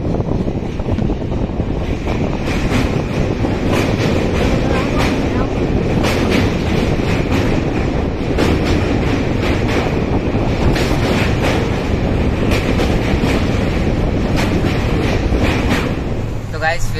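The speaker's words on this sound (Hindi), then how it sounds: "फिलहाल अभी ट्रेन तो चली रही है" Moving passenger train heard from inside a sleeper coach, a steady loud rumble and rattle of the carriage throughout, with wind buffeting and occasional clicks from the wheels.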